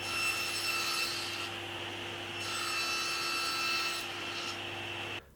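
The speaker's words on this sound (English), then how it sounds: "The plywood is then ripped to cut the holes in half." A saw rips through plywood with a steady, raspy cutting noise of long continuous strokes, moderately loud and close, with slight swells in intensity and no talking.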